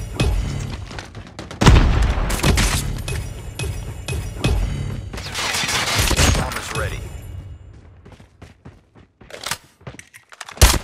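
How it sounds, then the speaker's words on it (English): Napalm strike in a Call of Duty sniper free-for-all match, a run of loud booming explosions and sharp gunfire bursts that rise, then thin out into scattered distant blasts before a final heavy hit. "Napalm deployed."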